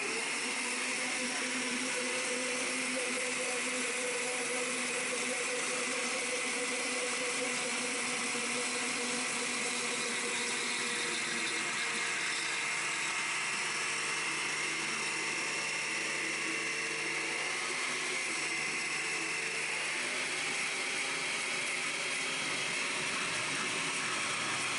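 A regular blender mixes oil into vegan mayonnaise, its motor whirring in a continuous loud drone throughout.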